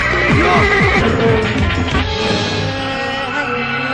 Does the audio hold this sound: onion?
no